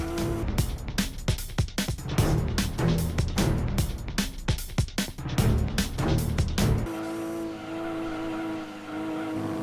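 Race cars in Gran Turismo 2 roar as they accelerate, with engine notes rising and cutting through repeated gear changes and surging revs, then settling into a steadier, quieter drone near the end.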